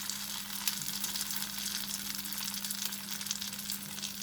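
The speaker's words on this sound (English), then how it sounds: "Here I have heated half a cup of oil and I'm going to add the cauliflower." Cauliflower florets frying in half a cup of hot oil give a steady, fairly soft sizzle and crackle that runs evenly throughout, with no talk.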